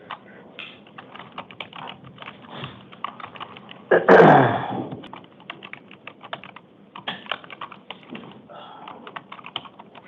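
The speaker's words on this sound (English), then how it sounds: "When it comes to typing, I can't multitask." Rapid typing on a computer keyboard in a courtroom during an initial appearance hearing, steady clicking keystrokes running through the whole stretch, with one brief louder burst of noise in the middle.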